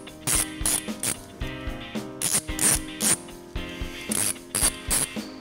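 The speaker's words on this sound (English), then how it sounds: "reinsert your 3 Allen head bolts," Allen head bolts on a Forge diverter valve for a VW/Audi 2.0T engine are tightened with a ratchet, close, quick bursts of metallic clicking repeated in short groups with brief pauses between.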